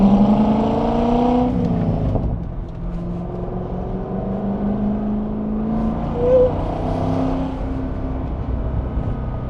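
Corvette C6 with a 400-horsepower American V8, its engine droning loud and close with rising and falling revs, a sharp rev change near the start and a brief pop partway through.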